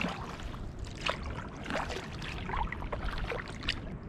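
Kayak paddling through mangrove water: soft close splashes and dripping trickles from the paddle strokes, with low rumbling handling noise throughout.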